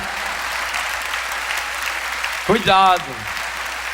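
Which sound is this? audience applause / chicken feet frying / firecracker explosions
audience applause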